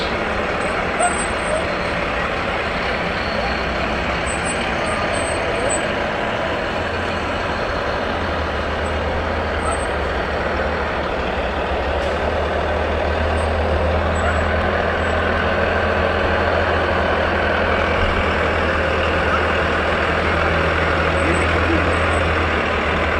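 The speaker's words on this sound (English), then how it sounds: "Tanker 153 is driven by Mike Davis." A fire department tanker truck rolls past in a small-town Memorial Day parade, a low, steady diesel engine rumble with brief air brake hiss and crowd voices around it.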